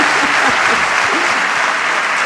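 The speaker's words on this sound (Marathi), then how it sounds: "जरा जोरदार टाळ्या वाजवा" Audience applause at a Marathi stage performance, a loud, steady wash of clapping from a large crowd that holds for the whole stretch without letting up.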